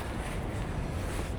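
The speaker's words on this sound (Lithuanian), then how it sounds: "toks vėjas pučia" Strong wind on the Spanish coast buffets the microphone with a steady low rumble and broadband whoosh, constant and close, with no voices.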